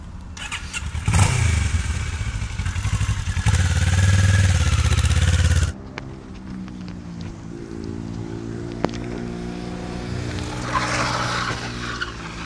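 A motorcycle during a riding coaching session, its engine loud and close as it accelerates, then a sudden emergency stop with a sharp braking sound and the engine dropping to a lower running note.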